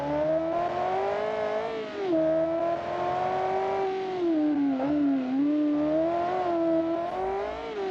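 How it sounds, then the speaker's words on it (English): A Kiev Motors 10 engine in the video game BeamNG revs continuously at high pitch on a city course, its tone rising and dipping as it accelerates and shifts, loud and close throughout. "It honestly sounds like a supercar."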